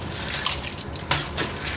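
Water running and splashing over live crawfish being purged in a tub, a continuous close hissing wash with small drips and sloshes, no talk.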